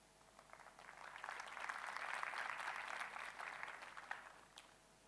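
A live audience claps at a corporate training talk, the applause swelling over about three seconds and then tapering off, steady and fairly close.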